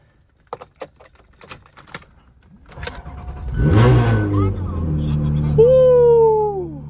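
A Ferrari supercar in Japan starting for the first time: a few sharp clicks, then the engine cranks, catches with a loud roar and settles into a steady, rumbling idle with a rising whine near the end.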